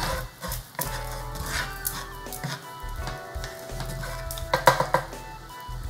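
Shrimp hitting hot butter in a pan, a loud steady sizzle with occasional clinks and scrapes of a utensil against the pan, no voices.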